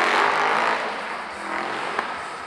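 A loud race car roars past at a motorsport show event, a strong engine note that swells at the start and then fades away.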